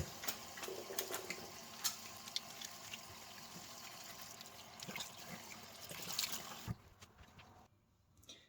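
Hands washed under running water ahead of cleaning a wound, a steady faint trickle and splash with soft rubbing, stopping near the end.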